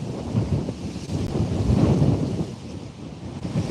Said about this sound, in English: It's probably all of this wind. It has been quite an aggressive one.